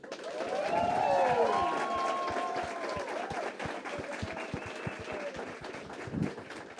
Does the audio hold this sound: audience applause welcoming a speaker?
yes